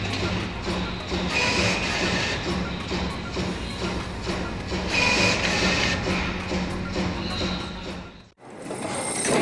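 A food production machine on a factory conveyor line gives off a steady, dense mechanical clatter with rhythmic printer-like shuttling and thumps, continuous and fairly loud, briefly dropping out near the end.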